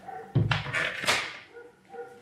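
A neighbours' dog barks a few times nearby, short sharp yelps with a whimpering edge, clear and fairly close against a quiet indoor background.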